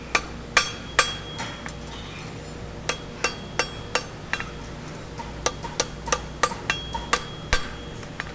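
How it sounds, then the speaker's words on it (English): Repeated sharp metallic taps ring out in an uneven rhythm, a hammer striking a cup shoe horseshoe on steel at an angle, some blows louder than others. "See how I'm hammering at an angle?"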